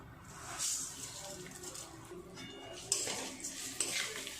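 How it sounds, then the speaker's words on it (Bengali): A spoon scrapes and stirs rice being fried with ghee, turmeric and ginger in a pot, giving soft metallic clinks and rustling that carry on steadily at close range with no talking. "কিছুক্ষণ সময় নিয়ে চালটা ভালো করে নেড়ে চেড়ে ভেজে নেব"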